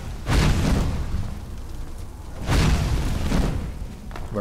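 An enemy shooting fire in the video game Skyrim: two loud roaring blasts arrive about two seconds apart, each a sudden burst that swells and trails off into a low rumble.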